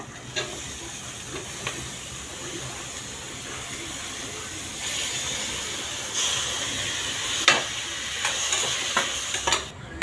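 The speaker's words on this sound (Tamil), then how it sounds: "வெங்காயம் வதக்கிட்டு பாருங்கள். தக்காளி போட்டுருங்க." Chopped onions and tomatoes sautéing in a pan for tomato rice, with a steady soft sizzle and hiss and occasional scraping stir strokes, close by, with no talking.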